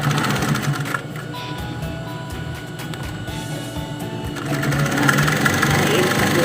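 A sewing machine stitches the hem of a pair of jeans, a steady continuous mechanical whir running throughout with a slight rise in level near the end, fairly close and loud.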